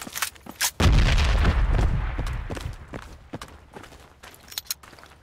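In the military shooter Project Reality, a frag grenade explosion bursts loud and close after a few sharp clicks, its heavy rumble trailing off over a couple of seconds, followed by scattered footsteps and gunfire cracks.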